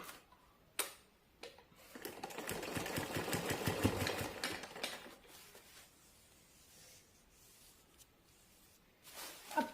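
A sewing machine stitches saree border lace onto a fabric belt. It runs in a fast, close, rhythmic burst of needle ticks for about three seconds, with softer handling clicks and rustles before and after it.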